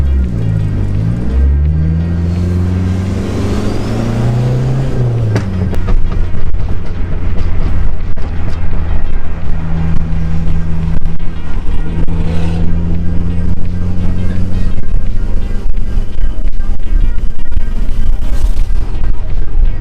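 A modified Dodge SRT4 engine idles with a low rumble, then revs up and down before settling into a loud, throaty, sustained run close by, with no one talking.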